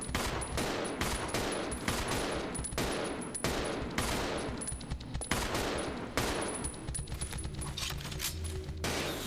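Resident Evil 0 HD gunfire aimed at a swarm of bugs: repeated loud shots crack in an uneven run across the whole stretch, close and steady, with faint rattling in between.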